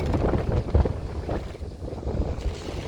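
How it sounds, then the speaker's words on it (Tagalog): Strong wind buffeting the microphone in loud, gusty bursts in a zucchini garden, rumbling low and uneven throughout with no voices. "Super malakas ang hangin talaga dito sa amin."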